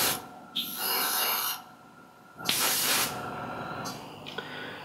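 Primer is sprayed onto a Zvezda Pz.38(t) 1/100 scale model tank in close, hissing airbrush or aerosol bursts: one short burst, then two longer ones, with quiet gaps between and no talk.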